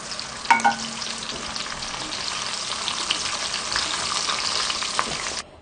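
Green chilies fry in hot oil with a steady, close sizzle and crackle, a brief louder spatter near the start, then an even hiss until it cuts off.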